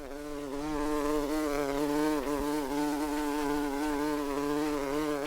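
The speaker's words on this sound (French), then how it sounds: "Maintenant, c'est l'abeille qui bourdonne." A bee buzzes steadily and close by for several seconds, a continuous droning hum that stays loud and even throughout with no other sounds.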